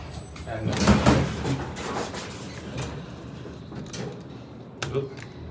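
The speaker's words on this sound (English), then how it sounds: "Door reopened for some reason." Montgomery KONE traction elevator at Denver International Airport, its door sliding back open with a soft rumbling glide and a light bump, under people talking.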